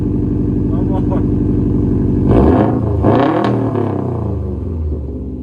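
A Subaru STI with a Remark non-resonated catback exhaust cold-starts and idles with a deep burbling rumble, then revs sharply twice in quick blips before settling back, loud and close.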